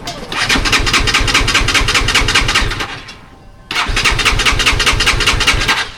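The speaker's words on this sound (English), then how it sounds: "I wonder, would it start with whatever bit of fuel they put in there?" A Kove 450 Rally motorcycle with an empty tank cranks on the starter in two long bursts, a rapid, even whirring chug that pauses briefly between attempts and never catches, loud and close.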